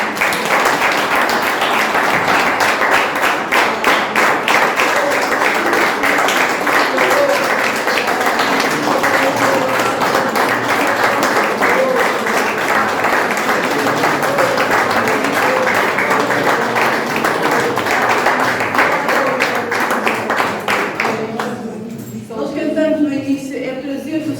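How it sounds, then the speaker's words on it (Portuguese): Church congregation applauding during a Sunday service, sustained loud rhythmic clapping from many hands that continues steadily for over twenty seconds before fading near the end. "Posso convidar os irmãos a dar uma salva de palmas ao Senhor?"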